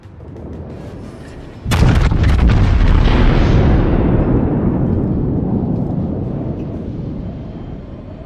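Warship main guns fire a sudden heavy salvo in World of Warships, a loud booming blast that rolls into a long rumbling decay over several seconds.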